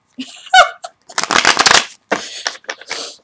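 Quick riffling bursts of an oversized deck of tarot cards being shuffled, close and crisp, with a brief laugh or voice sound before the main flurry.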